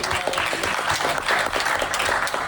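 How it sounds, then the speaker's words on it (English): A Rotary Club audience in Dothan, Alabama claps loudly and steadily, a thick, continuous roar of many hands with scattered whoops mixed in, holding close and full throughout. "Everybody clap and get loud"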